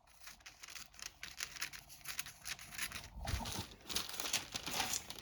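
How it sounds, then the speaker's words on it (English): Scissors cut the edge of a sheet of paper in an art journal, producing close, quiet crinkling and snipping that crunches a little louder near the end, with no talking. "we're going to cut off the edge of our paper"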